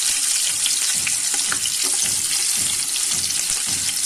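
About 100 grams of chopped onions frying in oil with spices for chicken tahari make a loud, dense, continuous sizzle with faint stirring scrapes, close up and without speech.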